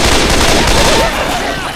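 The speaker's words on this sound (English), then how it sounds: "Can we stop shooting each other?" Dense, continuous gunfire from Left 4 Dead 2 during a scavenge match at Parish Park: loud overlapping rapid shots that crackle without pause, with a voice faintly mixed underneath.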